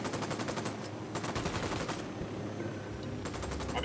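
Automatic gunfire in Ghost Recon Wildlands, rapid bursts of shots rattling in quick succession with short gaps between volleys, moderately loud over a steady background.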